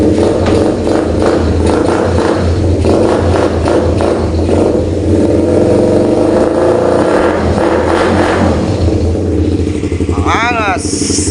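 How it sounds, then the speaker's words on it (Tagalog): A Suzuki Raider 150 motorcycle with a carburetor idles and revs loudly up close, its engine and exhaust pipe giving a continuous rough, throbbing note with rising and falling revs, and a voice talks over it. "Ito nga pala yung pipe niya."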